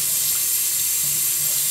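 Tap water runs steadily into a sink as makeup brushes are rinsed, a continuous bright hiss and splash with no voices.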